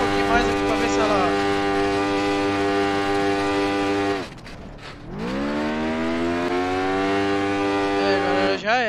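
Formula 1 car engine in BeamNG Drive, a high whining rev held steady, dropping sharply, then climbing again to a loud scream.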